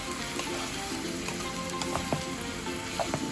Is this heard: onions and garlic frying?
yes